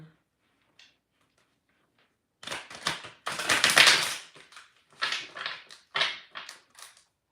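Tarot cards being shuffled by hand: after a quiet start, a run of crisp papery riffles and taps comes in close bursts, with one longer, louder shuffle in the middle, then shorter flicks.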